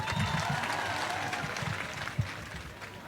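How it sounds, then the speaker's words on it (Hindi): An audience at a poetry recital claps steadily throughout, a dense wash of applause with a sharper clap standing out near the end. "उनके लिए ज़रा तालियां बजा दीजिए।"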